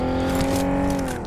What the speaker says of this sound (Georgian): მანქანა მოდის.